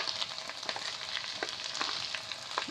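Ground cumin, coriander, chilli and turmeric with salt sautéing in a pan for a vegetarian biryani made without onion or garlic, a steady soft sizzle with scattered crackles and stirring scrapes throughout.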